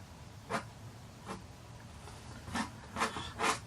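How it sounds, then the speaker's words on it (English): A palette knife scrapes texture gel across painted rocks on an acrylic canvas, giving five short, soft rasping strokes spaced unevenly over a quiet background. "scraping over the rocks for a little bit more texture there"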